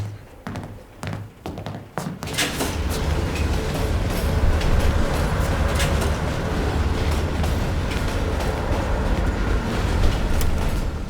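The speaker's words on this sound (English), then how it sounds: "Train's slowing down." A moving train in the Call of Duty Black Ops Cold War video game rumbles loudly and steadily, a few quiet knocks giving way to a dense roar scattered with rhythmic clacks and metallic taps.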